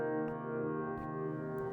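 A C minor improvisation smeared by the PaulStretch plugin into a steady, blurred wash of sustained tones with faint soft pulses, moderately quiet and without any voice.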